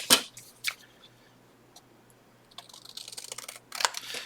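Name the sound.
scissors cutting lace for journal decoration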